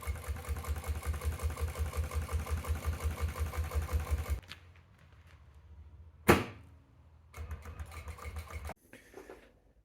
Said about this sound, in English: Now you want the zip stitched on